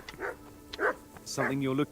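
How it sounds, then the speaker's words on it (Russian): A dog growls and barks in Kingdom Come: Deliverance, sounding in a few short, close bursts over about two seconds, with someone talking between and over them. "Чё ты на меня рычишь?"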